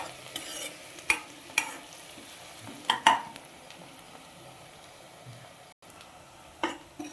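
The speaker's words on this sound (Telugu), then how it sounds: "లైట్ బ్రౌనిష్ కలర్లోకి వచ్చేంత వరకు వేపుకోవాలి. మధ్య మధ్యలో కలుపుకుంటూ ఉండాలి" Potato kurma ingredients fry in a pan toward light brown under a low sizzle, broken by loud spatula scrapes and clinks against the pan at irregular moments.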